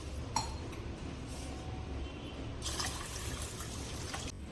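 Water swishing and trickling in a bowl as lentils are washed, with soft splashes and a brief louder pour midway, quiet and close.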